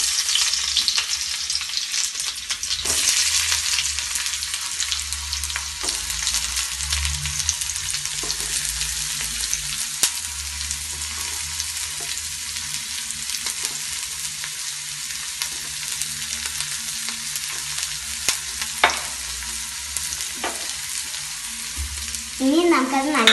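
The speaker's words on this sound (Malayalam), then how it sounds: "ഇനി നമുക്കതിലേക്ക് വെളുത്തുള്ളിയും ചുവന്നുള്ളിയും ഇട്ട് കൊടുക്കാം." Garlic and shallots go into hot oil in a pan and fry with a steady, loud sizzle that carries on throughout. Scattered stirring clicks and scrapes sit over the hiss, and nobody talks.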